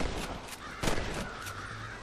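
Crows cawing in the Red Dead Redemption video game, several harsh caws repeating at a moderate distance over a quiet game ambience, with no talk.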